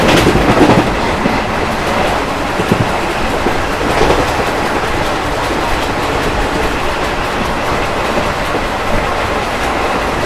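Ranchi Garib Rath Express with older ICF coaches running at speed, a steady loud rumble of wheels and car body noise with faint rhythmic clatter throughout, no voices.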